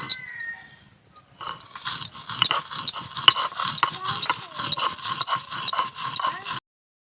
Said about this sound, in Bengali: আমি শিলনোড়াতেই বেটে নিচ্ছি